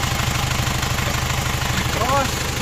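Isuzu Panther double cabin diesel engine idling with a steady, rapid knocking clatter from a ring nozzle fault, close and continuous, with a brief voice near the end.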